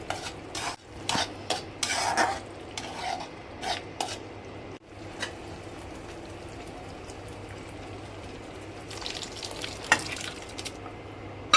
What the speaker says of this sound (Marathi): आता आपण ॲड करणार आहोत शिजवून घेतलेली मटकी.